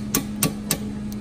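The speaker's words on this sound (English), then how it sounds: "Oh, we're hammering live." A hammer striking a Thompson Center Encore rifle barrel to drive out a stuck .22 LR bullet: three sharp metallic taps at even spacing, then a fainter fourth, over a steady background hum.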